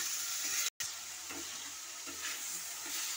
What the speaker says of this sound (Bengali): সেদ্ধ হওয়ার জন্য আমি জল দিয়ে দিচ্ছি পরিমাণ মতো